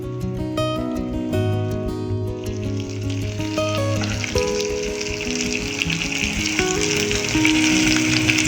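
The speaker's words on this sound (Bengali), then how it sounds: "এবারে গ্যাসের ফ্লেমটাকে মিডিয়ামে রেখে আস্তে আস্তে ভেজে নেব।" Stuffed okra fries in a pan over a medium gas flame, making a continuous crackling sizzle that grows fuller partway through and runs beneath steady background music.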